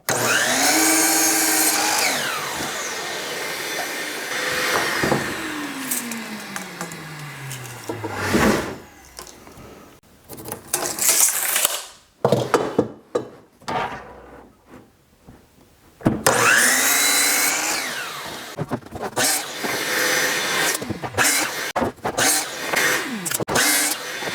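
A power saw whines loud and close as it cuts through 2x4 lumber boards, in several long cuts broken by short pauses and quieter handling noises.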